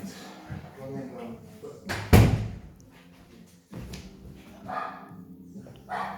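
A dog barks a few times nearby, sharp and loud, while people talk over it.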